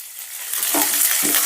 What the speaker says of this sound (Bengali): এবার নুনটা দিয়েও সমস্ত সবজিটা আর একটু ভালো করে ভেজে নেব